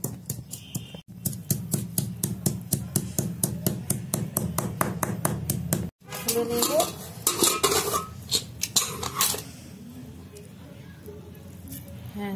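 Salt, ginger and green chilies are crushed with a stone pestle on a flat grinding stone, making rapid, evenly spaced knocks for about six seconds, followed by irregular scraping and grinding. A voice speaks faintly beneath.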